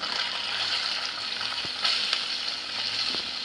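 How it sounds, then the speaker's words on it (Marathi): Chopped onions frying for a Marathi methi bhaji, a dense steady sizzle with a few faint clicks of a utensil against the pan, close and moderately loud, no talking. "चला कांदा टाकून घेऊया आपण"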